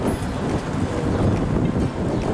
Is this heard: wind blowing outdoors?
yes